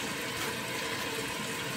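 Water sprays or pours to wet a curly, wavy hair topper, a short, steady, close wash of rushing noise with no voices.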